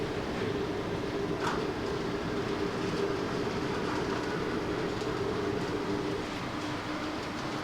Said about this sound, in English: I'm going to give it a little bit more power to get over the crossings.